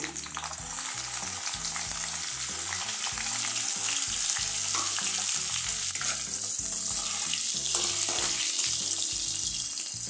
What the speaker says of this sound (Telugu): తర్వాత ఆయిల్ కాగుతుంది కదండి, ఉల్లిపాయలు వేస్తున్నాను.